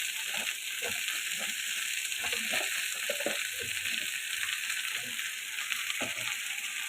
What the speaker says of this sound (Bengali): করলা, আলু সবকিছুই আমি এখন একই রসুন এবং পেঁয়াজের সঙ্গে ভেজে নেব।